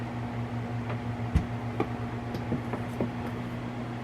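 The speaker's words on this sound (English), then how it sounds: "That's the fan that's still plugged in." An electric fan left plugged in hums steadily in a kitchen beside an air fryer, a constant low drone with a few faint ticks and clicks over it, no voices.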